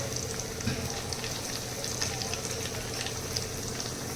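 Chopped onion and chilli sauté in a pan with a steady, close frying hiss that runs evenly throughout, along with faint stirring.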